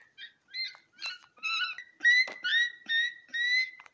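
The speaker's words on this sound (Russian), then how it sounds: "Извините, у меня птица." Pet bird in a cage calling in a series of short, clear whistled chirps and trills, close and distinct, with brief pauses between the phrases.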